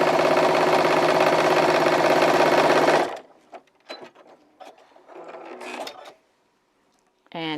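A sewing machine stitches the seams of a bag in a loud, steady mechanical whir for about three seconds, then stops, leaving scattered handling clicks and fabric rustles.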